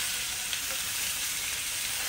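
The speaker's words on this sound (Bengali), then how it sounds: "তো পেঁয়াজগুলোকে আমি লাল লাল করে ভেজে নেব" Roughly 250 grams of onions deep-frying until reddish-brown for birista for a home-style dum biryani, giving a loud, dense, unbroken hiss of oil sizzling close up, with no voices.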